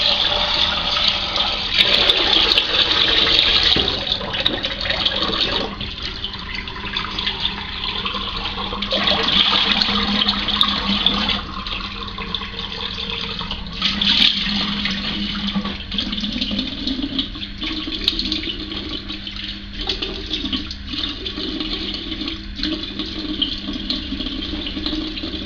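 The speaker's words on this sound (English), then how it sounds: "The old sink drain while I get some cold water going." Cold tap water runs steadily into a sink, a continuous close splashing hiss with slight shifts in flow and no talking over it.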